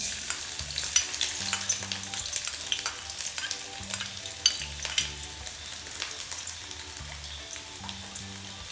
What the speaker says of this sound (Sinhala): ඉඟුරු සුදු ලුණු ලාවට ෆ්‍රයි වෙගෙන එද්දි